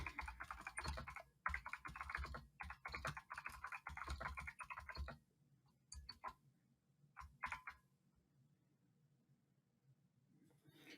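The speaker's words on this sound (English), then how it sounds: "I'm going to type a quick little message." Computer keyboard typing of a short message, bursts of quick close key clicks in a quiet room, pausing briefly, then sparser scattered taps toward the end.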